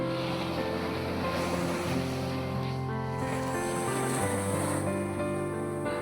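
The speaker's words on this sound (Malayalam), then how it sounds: "എന്ത് രസമല്ലേ കടല് കാണാൻ" Continuous surf roars steadily, waves washing in with wind noise over a low droning hum throughout.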